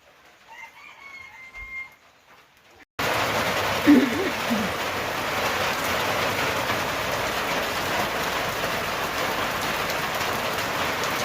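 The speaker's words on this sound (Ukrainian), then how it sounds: "Іде дощ." In a village, after a quiet moment with a faint rooster call, steady heavy rain suddenly pours down, a dense, even roar of drops close by.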